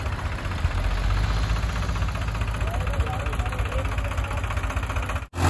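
A Farmtrac 60 tractor engine labours, stuck with a fully loaded trolley, at a heavy, continuous rumble with a rough knocking throb, loud and close throughout, briefly dropping away at the end.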